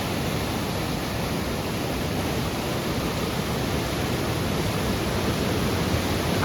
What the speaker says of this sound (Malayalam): വെള്ളം ഒഴുകി പോകുന്നതാണ് എന്തൊരു ഭംഗിയല്ലേ